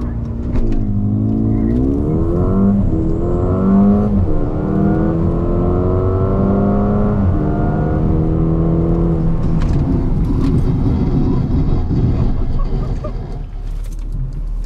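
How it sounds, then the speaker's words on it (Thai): A Mercedes-AMG GLA 35 and a Mercedes EQS 450 accelerate at full throttle from a race start at Chang International Circuit in Buriram, Thailand. The engine pitch climbs in loud, close sweeps broken by gear shifts, then fades into wind and road noise. "GQS 450นะครับนี่เร่งสุดๆกันเลยแข่งกับ GLA 35นะครับ"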